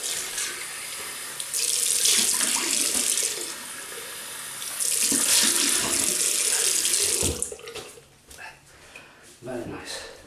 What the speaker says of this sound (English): Right, rinse off.